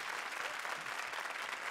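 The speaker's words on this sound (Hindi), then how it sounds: "जरा ताली बजाइए श्रुति के लिए" Applause fills the room for Shruti on a comedy show: a dense, steady clapping from a studio audience.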